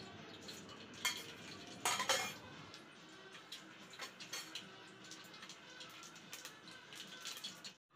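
Mustard seeds spluttering in hot oil in a pan while making shark curry, a faint crackling sizzle with scattered pops and a few clinks of a utensil against the pan.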